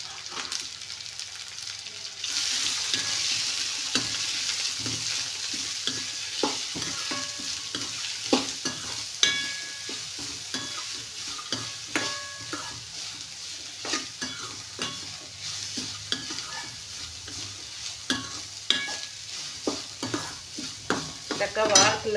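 Shallots, garlic, carrot, ginger and dry red chillies frying and being stirred in a pan for chutney, a steady close sizzle with repeated scraping stir strokes throughout, no talking.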